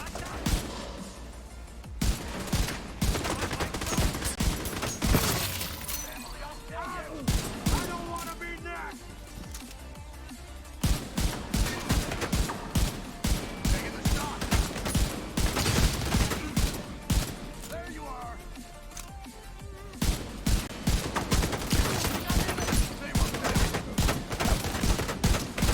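Gunfire in the video game The Division 2, with rapid bursts and single shots cracking sharply and repeatedly through a long firefight, broken by short lulls, while a voice talks over the shooting.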